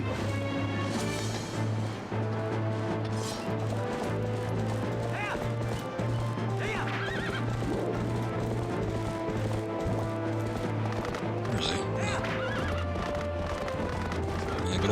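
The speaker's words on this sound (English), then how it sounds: "good old-fashioned horse battle." Horses neighing and galloping in The Legend of Zelda: Twilight Princess video game, repeated whinnies over steady clip-clop hoofbeats, loud and busy, with game music and someone talking underneath.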